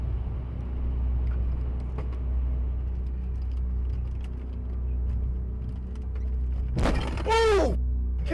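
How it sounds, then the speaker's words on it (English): Dashcam road noise from a car near a roundabout, a steady low rumble, then a loud crash near the end as a rear-ending car spins out and smashes off the road, with a sweeping screech or skid trailing after the impact. "The second hit causes the attacker to spin out and crash off the road."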